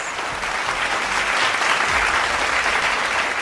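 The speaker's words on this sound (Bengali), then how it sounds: "একবার জোরে হাততালি হয়ে যাক প্লিজ।" A talent-show audience at a police singing competition claps loudly and continuously, a thick, even roar of many hands with a faint crowd murmur underneath.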